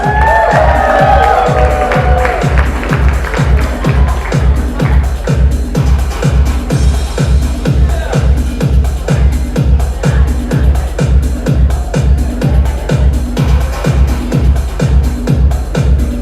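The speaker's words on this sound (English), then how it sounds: "A nice round of applause for Ami, Vinny, Sagar, and Jason with that amazing speech" Guests at a wedding reception whoop and cheer over a loud, steady thumping dance beat, the crowd noise loudest at the start and then blending into the music.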